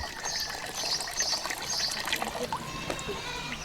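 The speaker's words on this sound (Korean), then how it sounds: "이 집에서 물이 나오는 곳은 마당 한가운데 이 수도꼭지뿐." Water runs from the only tap in the middle of a house's yard in a desert oasis village, a faint steady trickle and splash with scattered drips, heard alone with no voices.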